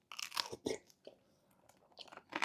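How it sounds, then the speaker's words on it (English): Sharp, close crunches and bites while eating, several distinct crisp bursts separated by quieter chewing, with no talking. "I know y'all can hear me crunching."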